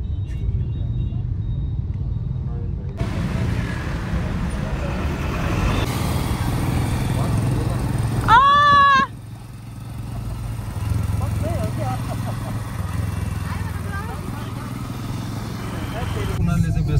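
Motorcycle riding along a road, a continuous low engine rumble under near-constant talk from the riders, with a brief horn-like tone midway.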